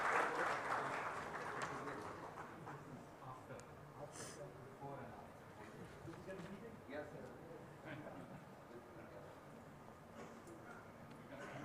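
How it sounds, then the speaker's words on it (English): Conference audience applauds panelists in a soft, distant patter that is strongest at the start and then fades under ongoing hall noise and voices talking. "Can we have a round of applause, please?"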